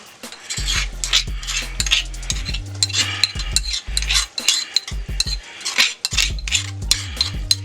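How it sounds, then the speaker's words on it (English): A spoon scrapes and clanks in a pan as a mortar-and-pestle paste for an Asian-style red snapper dish goes in and gets stirred, in irregular close bursts with a faint sizzle underneath. "next thing we're going to do is add what's in my mortar and pestle"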